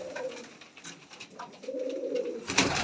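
Black-winged and black-tailed pigeons cooing nearby, a low, soft, drawn-out coo followed by a second longer coo, with faint rustling and a brief louder noise at the end.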